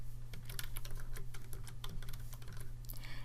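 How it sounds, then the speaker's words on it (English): Typing on a computer keyboard while entering labels into spreadsheet rows, a steady run of close, crisp key clicks over a low constant hum, no talking. "So on row 54, I'm going to type the word average"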